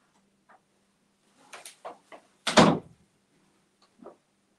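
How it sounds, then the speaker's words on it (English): A door is pushed shut indoors with one solid, close thump, preceded by a few faint scuffs and light taps and followed by a small click, in an otherwise quiet room. "Let me close my door."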